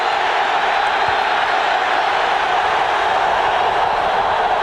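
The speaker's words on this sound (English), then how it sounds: "Beautiful atmosphere here at Arrowhead Stadium with a sellout crowd" A sellout stadium crowd at Arrowhead Stadium during a 1994 Raiders at Chiefs NFL football game roars in a steady, dense wash of noise that holds at full volume throughout, with no break or lull.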